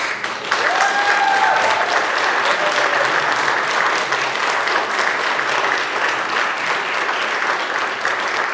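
An audience at a high school distinguished alumni award ceremony breaks into steady, full applause that holds evenly throughout, with a faint whistle-like tone briefly rising early on.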